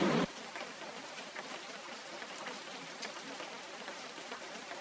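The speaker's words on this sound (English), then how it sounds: "And some rain." Rain ambience from a synth plugin, heard as a soft, steady patter with faint crackling drops throughout. It stays quiet and even after a brief louder burst at the start.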